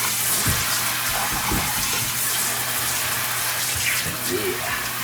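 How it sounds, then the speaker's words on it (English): A pull-down kitchen faucet sprayer blasts water into the sink in a steady, loud, close hiss that runs the whole time, with a faint voice now and then beneath it. "when you can pull this down and just spray down in the sink"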